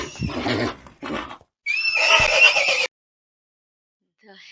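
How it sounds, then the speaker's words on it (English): A horse neighs in a loud, close whinny, two rising bursts and then a longer shrill call, followed by silence and a faint trailing sound at the end. "Here comes the horse."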